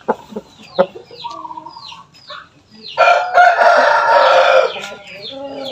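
Shamo chickens on a farm, with clucks and short calls up front, then a rooster's loud, close crow held for more than a second, followed by more calls.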